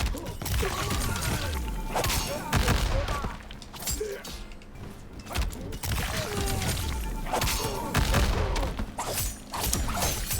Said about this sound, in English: You press RB twice, you get the double homing missiles